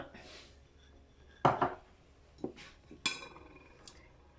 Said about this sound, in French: ils disent mélanger d'abord le beurre et le sucre